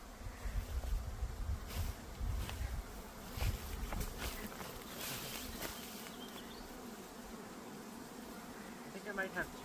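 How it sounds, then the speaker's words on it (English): A swarm of honey bees buzzes outdoors, a steady mid-level hum with individual bees passing close to the microphone, while people talk nearby. "So Justin says that he's got another swarm."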